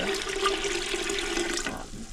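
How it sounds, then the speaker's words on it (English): Water gushes steadily into a stock pot being filled for canning, a loud continuous splashing rush that cuts off near the end. "So I'm going to go ahead and add my water to it."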